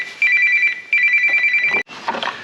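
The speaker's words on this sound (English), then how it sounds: "That's my phone ringing" A mobile phone rings loudly and close in a garage during a Renault Clio 182 compression test, two long electronic tone bursts with a short gap between them, then a brief clatter of handling noise.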